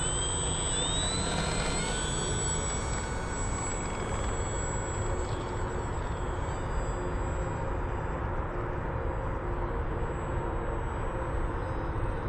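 Xfly Tasman 1.5 m RC airplane taking off at about half throttle on its maiden flight: a steady, loud electric motor whine that holds constant throughout, with broadband wind rush beneath it.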